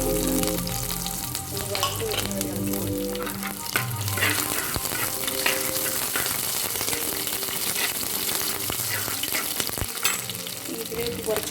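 Garlic and ginger sizzle steadily in hot oil with mustard seeds for a Kerala-style mackerel and sardine fish curry, a continuous close frying hiss with stirring and no talk.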